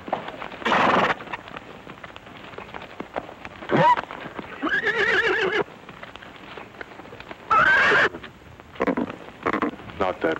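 A mare neighs several times in a 1948 Western film, with a long, shaky whinny in the middle and shorter snorting calls before and after, set against hoofbeats and other background noise.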